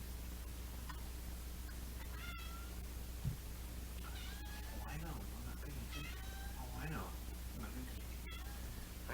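A pet cat meows repeatedly in a kitchen while chili is being made, rising and falling cries scattered across a steady low hum, close and moderately clear.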